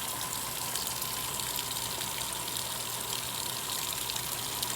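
Top-loading washing machine filling with warm water, a continuous hissing gush of water pouring in, steady and moderately loud with no one speaking.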